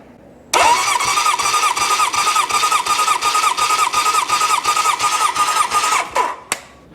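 A 1972 Honda CB750 Four engine cranks on the starter with the throttle wide open for a compression test, a loud steady rhythmic chugging lasting about six seconds before it stops abruptly, followed by a short click.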